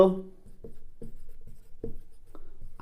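Handwriting during a math lesson, with short, close scratching strokes in an irregular rhythm, and a voice heard at the very start.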